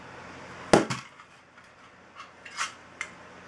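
Aluminum AR-15 rifle magazines are grabbed and handled, giving one sharp metallic clack followed by a few fainter knocks and rattles, close and quiet with no talking.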